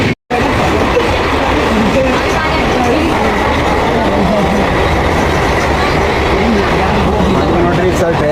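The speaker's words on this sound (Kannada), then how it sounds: "ನೋಡ್ರಿ, ಸರ್ ಟ್ರೈನ್ ಒಳಗೆ ನಾವು" Steady rumbling interior noise of a moving passenger train travelling past Indore, constant and loud throughout after a brief silent gap at the start, with a person's voice faintly present.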